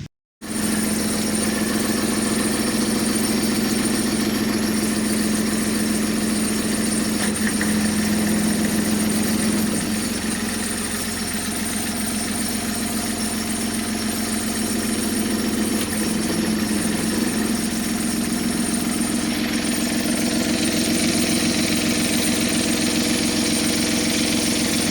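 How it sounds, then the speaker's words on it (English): Old gearbox being operated by hand, giving a continuous machine-like droning hum with grinding, vibrating texture that holds steady throughout, briefly dipping partway through. "this is the gearbox being operated by hand."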